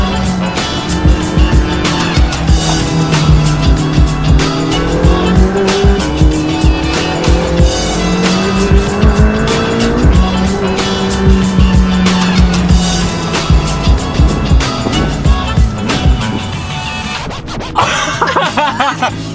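A McLaren 675LT supercar launches hard, its engine revving loudly through rising gear pulls while the tires squeal and scrabble, the sound close and continuous before tailing off near the end.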